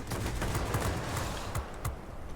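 An I-250 plane's cannon fires in World of Warplanes, a rapid series of sharp, punchy shots in short irregular bursts over engine drone, fairly close and loud, with no voice.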